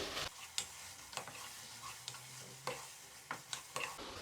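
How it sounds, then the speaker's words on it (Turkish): Onions and minced meat sizzle softly in a pan while a utensil scrapes and taps against it at irregular intervals. "Soğanlarımızı da güzel bir kavuruyoruz."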